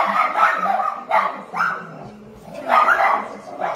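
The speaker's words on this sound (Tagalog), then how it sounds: "yung aso naman" A dog barks several times in short bursts, close by, with brief pauses between the barks.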